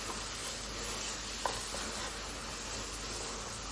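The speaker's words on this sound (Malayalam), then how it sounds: "ഈ മസാലപ്പൊടി കൂടെയൊക്കെ പച്ചമണം പോകുന്നത് വരെ നന്നായിട്ടൊന്ന് ഇളക്കി കൊടുക്കാം" Chicken being stirred with masala powder in a pan, a soft steady sizzle with a faint scrape of the spoon, close and without voices.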